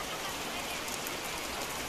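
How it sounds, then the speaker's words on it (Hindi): Sudden heavy rain pours in a dense, steady broadband hiss that fills the whole stretch with no breaks, close and fairly loud, with no talk over it. "देखिए अचानक बारिश हो रहा है"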